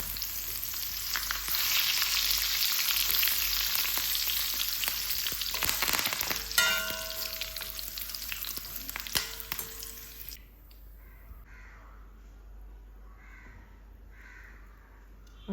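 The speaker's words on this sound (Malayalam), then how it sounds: "കുറച്ച് കറിവേപ്പിലയും കൂടെ വറുത്തിട്ട് പോരുന്നുണ്ട്." Curry leaves fry in hot oil with a dense, loud crackling sizzle and sharp spitting pops for about ten seconds, then the sizzle drops away to a much quieter, faint background.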